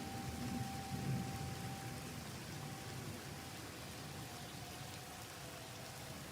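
Steady heavy rain with storm rumble in Naperville during a tornado-warned severe thunderstorm, a faint siren tone drifting in the background throughout, no talk.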